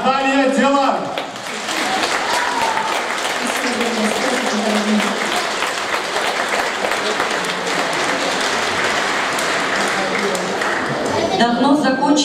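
Concert audience applauding at a Victory Day concert in Bendery for a soloist of the Chisinau National Philharmonic, a dense sustained roar of clapping that fills the hall for about ten seconds, with a voice speaking briefly at the start and end.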